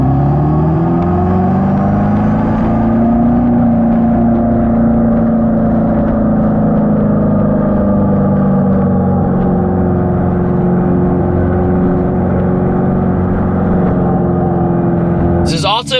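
Dodge Charger EV accelerating hard with its simulated exhaust sound, a loud, sustained synthetic engine drone that swells slightly in pitch then hovers almost unchanged for the whole stretch, ending with a brief clatter.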